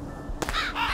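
Birds in the Donut County video game let out harsh, loud cawing calls, two or three quick rasping caws close up after a brief quiet moment.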